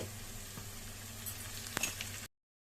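Brinjal drops into a hot pan of softened onion and asafoetida, setting off a steady close sizzle with a few brief pops and crackles. The frying continues for about two seconds and then cuts to silence.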